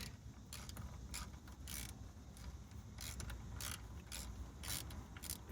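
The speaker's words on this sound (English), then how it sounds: "I can slide my socket right onto there now and be able to take that off." Socket wrench working loose a rear brake line fitting on a Chevy Silverado: faint repeated ratcheting clicks and mechanical creaks over steady low background noise, no voices.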